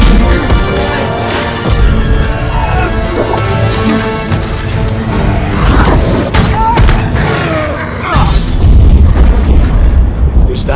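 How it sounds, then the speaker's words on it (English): A deep, loud rumble from the dragon in The Hobbit: The Desolation of Smaug trailer rolls on continuously, heavy booming low end mixed with dramatic trailer music and effects, while a voice speaks over it. "That, my lad, was a dragon."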